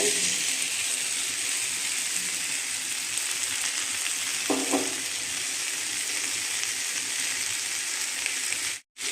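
Prawns and green jackfruit sizzle in a hot pan, a steady close frying crackle throughout, with a brief clink of a utensil midway and a sudden drop at the very end.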